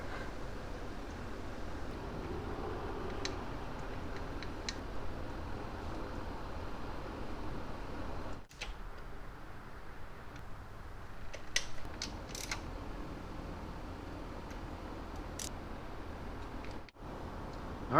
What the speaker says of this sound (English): go ahead and bolt it all the way down, hand tight, retighten it all the way